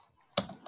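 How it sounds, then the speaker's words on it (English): Computer keyboard keys clack in two short bursts during an online meeting, close and fairly crisp after a near-silent start. "could you just mute while you're typing?"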